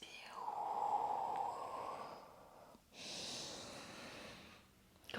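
A long breath out during a seated yoga session, soft and airy, followed by another slow breath, fairly quiet and close with no talking.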